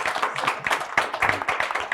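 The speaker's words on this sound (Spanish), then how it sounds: "un aplauso para nuestros ponentes" An audience at a talk on administrative violence claps for the speakers. Dense, fairly close hand claps form a continuous patter for the full two seconds.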